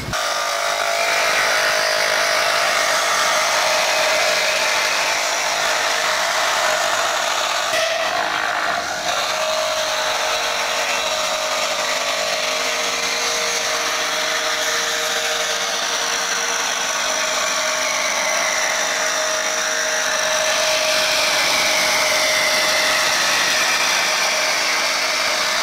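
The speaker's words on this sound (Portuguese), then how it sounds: "ele me mandou um vídeo dessa máquina arredondando madeira de 40 milímetros" Wood rounding machine shaping 40 mm wood into round stock, a loud continuous high-pitched motor whine and cutting buzz that holds steady for the whole stretch, close and alone with no talk.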